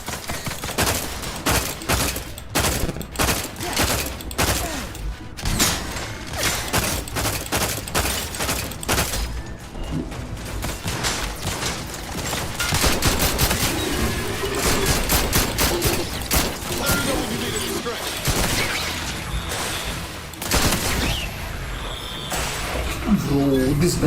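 Rapid, dense gunfire from a weapon in the video game The Outer Worlds 2, bursts of shots hammering almost continuously throughout, with someone talking over the shooting.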